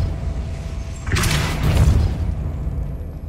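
In the Hogwarts Legacy video game, a Depulso spell lands as a sudden booming burst with a whooshing rush, fading into a low rumbling tail over steady background ambience.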